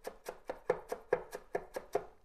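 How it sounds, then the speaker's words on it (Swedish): A knife chops fresh dill, rolled into a small ball, on a cutting board: about ten brisk, evenly spaced chops, close and clear, with no talking. "Och sen så hackar vi ner den bara lite."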